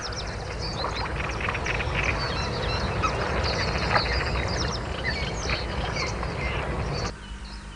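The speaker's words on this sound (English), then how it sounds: "The goose family heads straight for the water." A family of geese calls near water in the wild, a steady, dense chorus of honking and quacking calls layered over constant outdoor background noise that drops away at the end.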